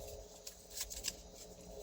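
A deck of cards is shuffled for a random draw in a quiet room, soft riffling with a few crisp flicks over about two seconds, close and fairly faint, with no talking.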